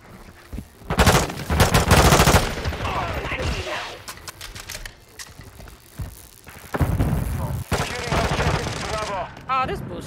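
Rapid automatic gunfire in Call of Duty Modern Warfare 2, loud bursts of shots in several volleys with pauses between, mixed with game effects and a player talking.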